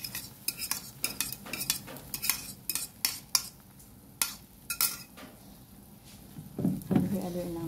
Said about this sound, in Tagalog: Halo-haloin lang natin. Hanggang sa maluto.